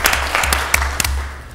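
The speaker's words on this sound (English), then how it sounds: "Let's give her a big round of applause." Brief burst of audience applause at a city council meeting, scattered claps with a few sharper individual slaps over a low hum, fading near the end.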